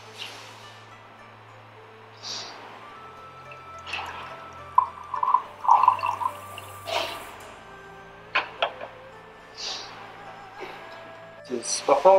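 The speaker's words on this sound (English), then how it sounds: "Pour into the cup" Hot water is poured from a tea scoop-side kettle into a cup for spring harvest tea, heard as a few brief splashes and drips spaced across the moment, fairly close, with a voice speaking over them.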